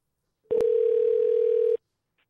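A single steady telephone tone sounds while placing a call, a clean sustained electronic beep lasting just over a second after a brief click, loud and close with silence around it.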